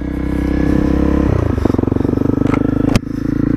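A Honda CRF250L dual-sport motorcycle ridden on a forest track in the Trossachs, Scotland: a loud, close engine drones steadily, then pulses with rhythmic revving as the bike gets underway.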